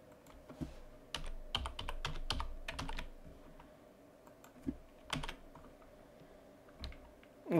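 Python code is typed on a computer keyboard in irregular bursts of close, clicky keystrokes with short pauses between runs, over a low steady room hum.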